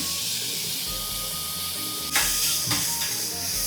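A steady hiss of food frying in a pan, with a sudden louder sizzle burst as chopped tomatoes are added, then the sizzling continues.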